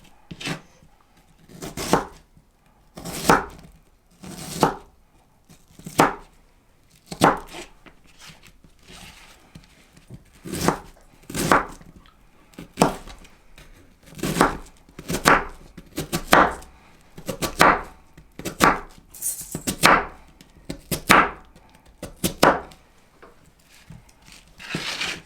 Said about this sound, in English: And then slice it down the quarters.